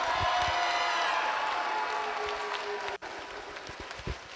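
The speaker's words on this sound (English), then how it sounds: "Can we have one more round of applause for" Audience applause at a FIRST South Carolina live-streamed event, a sustained wash of clapping from a crowd that dips briefly and then continues more softly.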